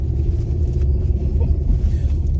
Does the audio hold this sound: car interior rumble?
yes